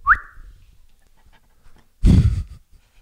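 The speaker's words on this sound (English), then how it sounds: "Let's see the little puppy." A small puppy makes a high, rising whimper at the start, then goes quiet with faint breathing before a louder burst of panting-like huffing toward the end, all close by.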